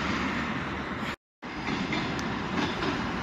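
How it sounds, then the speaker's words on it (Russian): A train in Ryazan rumbles past nearby with steady broadband roar and faint rhythmic clatter, briefly cut by a short silent gap before the passing noise resumes. "Звук поезда."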